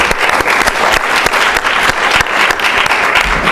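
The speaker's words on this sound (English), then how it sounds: "everyone, big round of applause" A student government meeting breaks into dense, loud applause for its Engineering Caucus, a continuous wash of many hands clapping close by that runs steadily throughout, with no clear voices above it.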